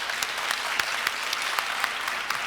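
A church congregation gives warm applause to welcome guest speakers, a brief burst of many clapping hands with a few sharper, nearer claps standing out. No one speaks over it.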